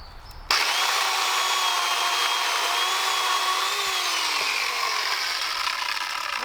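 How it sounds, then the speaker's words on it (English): A small Toro chainsaw cuts into wood, starting abruptly and then holding a loud, steady, high-pitched buzzing whine close by with little change until the end. "this little Toro is cutting pretty good"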